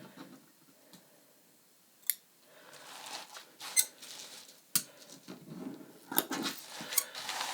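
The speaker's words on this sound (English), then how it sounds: "So I'm just going to use my scissors so I don't slip and cut into that medallion" Scissors snipping through beaded lace close up, cutting right beside a lace medallion: scattered sharp snips and small clicks with soft rustling of the fabric in between, no talking.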